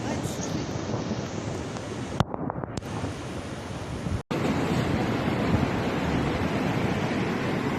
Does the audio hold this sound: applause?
no